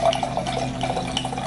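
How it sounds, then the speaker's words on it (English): Spanish wine poured from a bottle into a glass, a steady close-up trickle and splash of liquid lasting the whole moment, with no talking. "I'm pouring a real glass"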